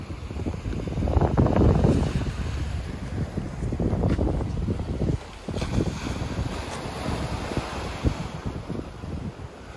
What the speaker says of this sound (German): Hier nimmt der Wind wahrscheinlich noch so ein wenig zu, weil hier alles frei ist.